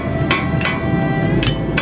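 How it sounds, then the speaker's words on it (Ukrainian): In a blacksmith's forge, three loud metallic hammer strikes ring out at an uneven pace over a steady low rumble, each clang sharp and bright with a lingering shimmer. "Забрящав молот."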